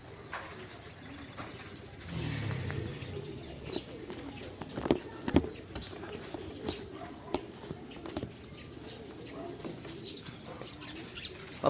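Pigeons return to their loft during a racing-pigeon training session, with soft cooing, wing flaps and light footsteps close by, and a few sharp knocks over a low outdoor background.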